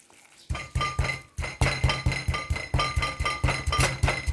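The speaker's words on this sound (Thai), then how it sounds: "ก่อนอื่นเราเอาผิวมะกรูดมาตำค่ะ" Rhythmic pounding of kaffir lime zest in a mortar, steady sharp knocks repeating about twice a second with a faint ringing clink, close by and with no talking.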